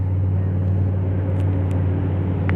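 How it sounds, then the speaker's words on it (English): A car approaching on a remote forest road, a steady low engine and tire rumble that holds fairly constant and moderately loud, with no voices. "there's a car coming"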